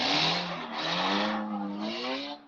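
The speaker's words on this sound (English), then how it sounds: "No, that's actually an engine of a car." A car engine running outside, a steady droning hum with slowly shifting pitch that holds for a few seconds at a moderate distance with no one talking.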